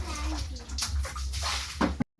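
Water splashes and pours onto a bathroom floor in a household comfort room, with uneven gushes and spatters and quiet voices in the background.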